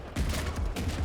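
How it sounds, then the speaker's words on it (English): Small explosions from thrown demons in the video game Shotgun Cop Man: a dense, loud crackle of rapid blasts with heavy low rumble, continuous for about a second. "demons can be thrown to create small explosions like that"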